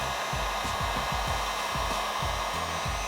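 A heat gun blows hot air over paint protection film on a Toyota Tacoma headlight: a steady close whooshing hiss, with faint low knocks as the gun moves back and forth, and no talking.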